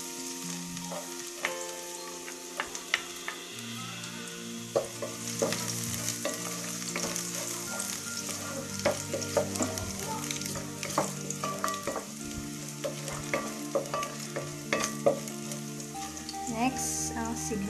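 Garlic sizzling in hot oil in a pan while a utensil stirs it, a constant crackling fry with frequent scraping taps and clinks, close and loud, no voices.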